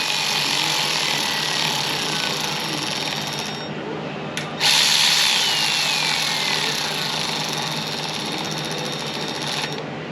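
Power tool driving bolts down on a Jesel rocker arm, a continuous loud whirring drone with a brief drop in the middle before it resumes, close by and without talk.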